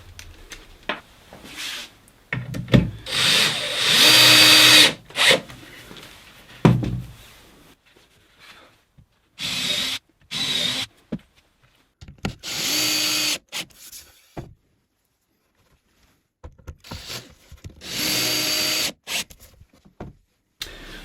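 A drill drives Spax M-Cut self-countersinking screws into a wooden MDF cabinet carcass in several loud bursts of whirring, separated by short quiet pauses.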